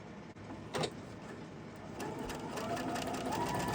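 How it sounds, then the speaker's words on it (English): A sewing machine stitches a quilted summer table runner. Its motor hums in a continuous close whir that picks up speed partway through, with a brief clack near the start. "And we'll just sew it."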